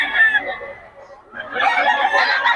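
A stag rooster crows in a market setting, a loud strained call with a brief pause midway before a second rising crow, busy crowd noise around it.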